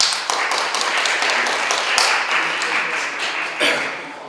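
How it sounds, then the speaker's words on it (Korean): A crowd claps steadily at a Sewol ferry remembrance gathering in Dobong, a dense patter of hands that swells and fades slightly over several seconds, with faint voices underneath. "우리 모임의 김현석 대표님을 힘찬 박수로 맞이하도록 하겠습니다"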